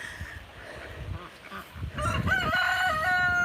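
A rooster on a rural South Dakota farm crows loudly and close, a long wavering call rising over scattered low rustling and movement sounds.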